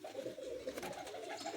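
Chhatri pigeons, also called patti pigeons, coo in a low, continuous, rolling murmur, faint and close, with no talking over it.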